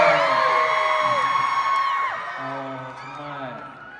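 Crowd of fans at a concert in Phoenix letting out loud, high-pitched whoops and screams that slowly fade, with some shouting and a voice underneath.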